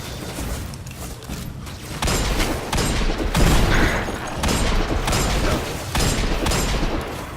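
A grenade blast in Destiny 2 booms loudly amid a dense, continuous clatter of gunfire and mechanical game effects, with several heavy broadband bursts recurring through the fight.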